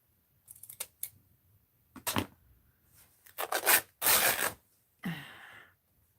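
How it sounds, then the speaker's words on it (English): Scissors snipping paper pages for a mixed-media art journal, several separate crisp cuts and slicing strokes close up in a quiet room, with a longer rasping cut near the end. "So we want to snip"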